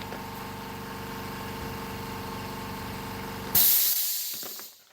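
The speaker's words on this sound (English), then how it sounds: "my compressor went off" An air compressor on a tool bench runs with a steady droning hum and hiss, then cuts off abruptly with a loud burst of released air that tapers away over the last second.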